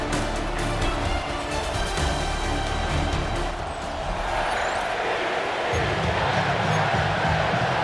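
A stadium crowd roars in Madden NFL 26 at MetLife Stadium before kickoff, a broad continuous wash of cheering and noise with commentary voices mixed over it.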